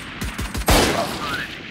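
Valorant gunfire rings out as several sharp shots come in quick succession, then a louder blast, followed by a short echoing tail.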